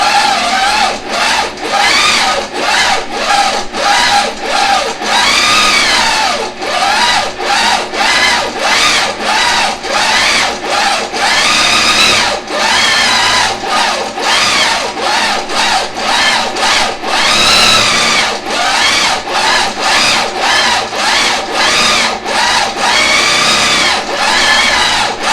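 A home quilting machine stitches a pantograph design on a quiltable print, its needle producing a loud, steady rapid chatter that pulses in short regular bursts with brief pauses, heard close and alone.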